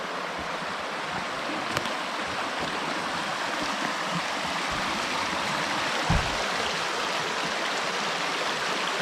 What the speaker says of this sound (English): The creek actually is running right along the edge of the road.